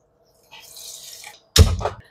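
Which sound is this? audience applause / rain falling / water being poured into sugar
water being poured into sugar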